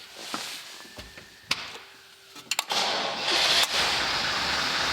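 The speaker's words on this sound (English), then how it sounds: "we need to run the engine first to build up the hydraulic pressure in the braking system" A cold diesel engine on a double-decker bus cranks with a few sharp clunks, then catches and settles into a loud, steady running roar.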